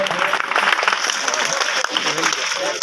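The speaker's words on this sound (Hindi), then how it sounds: "उनका जोरदार तालियों के साथ स्वागत है" An audience claps steadily in welcome for a visiting state minister at a Hindu religious discourse gathering, with a dense, continuous patter of many hands at moderate loudness throughout, and voices faintly mixed in.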